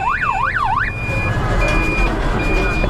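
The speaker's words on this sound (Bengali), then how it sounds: "এটা কি হর্ন লাগাইছেন এই যে টুটু করে ওঠে?" A siren-style horn fitted to a car sweeps up and down in a loud wail for about a second, then gives a few brief steady tones over the low hum of the idling engine.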